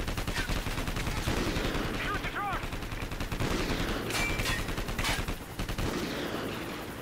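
Gunfire in the Call of Duty: Ghosts video game, dense rapid bursts and fusillades continuing across the whole stretch, with brief ricochet-like whines and loud sharp cracks mixed in.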